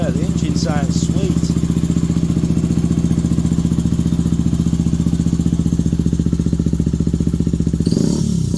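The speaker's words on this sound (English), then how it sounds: "the engine sounds sweet" A Benelli TNT 125 Tornado Naked motorcycle runs at a steady idle close by. Its single-cylinder thump is rapid and even, with a clattery edge. Someone speaks briefly at the start, and there is a short rustle near the end.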